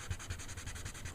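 A pencil eraser rubs back and forth across a paper drawing in quick, soft scratchy strokes, close and fairly quiet, about five rhythmic passes in a second.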